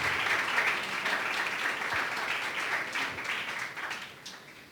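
A church congregation at a Sunday school service applauds, a steady wash of many hands clapping in a large room that slowly fades toward the end.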